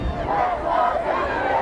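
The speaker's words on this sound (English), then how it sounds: "And the Highlander student body cheering them on." A high school student body cheers and roars steadily at a boys' state championship soccer match, a sustained crowd din with no clear individual voices.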